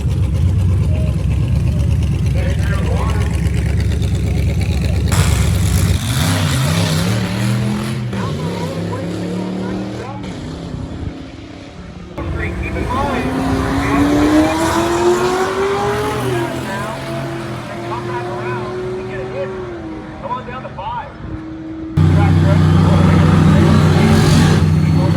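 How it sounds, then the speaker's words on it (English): A Futura drag car with a 302 GT40 engine and ProCharger races at a dragstrip, revving and rising through gears in long climbing pulls with supercharger whine, then a loud idle near the end under light talk. "Look at this Futura. Freaking awesome little thing. Got a 302, the GT40, and a little Pro Charger."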